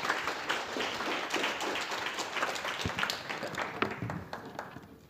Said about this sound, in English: a big round of applause for the speakers once again.